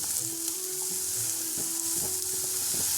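A prawn curry with brinjal is stirred in a pan, giving a steady close sizzle of frying with soft scraping strokes of a spoon throughout.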